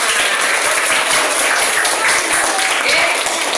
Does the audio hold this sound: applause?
yes